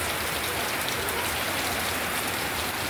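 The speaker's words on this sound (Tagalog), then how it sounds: "Ulan." Rain falling on a rainy day, a dense, constant hiss of drops on surfaces, close and even in loudness, with no talk.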